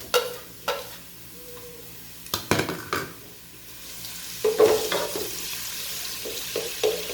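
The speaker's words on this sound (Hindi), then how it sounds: "प्याज हमारी ब्राउन हो चुकी है, अब इसमें डाल देंगे लहसुन" Garlic goes into browned onions frying in a pan, giving a close sizzle with sharp spoon scrapes and knocks in irregular bursts. The frying hiss swells louder after the additions.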